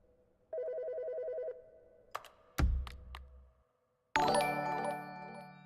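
An old-style telephone bell rings in The Stanley Parable, one pulsing trill lasting about a second. Sharp clicks follow, then a loud burst of jangling game noise.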